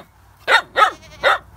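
A dog yelps sharply three times in quick succession after touching an electric fence, close and loud with short gaps between cries.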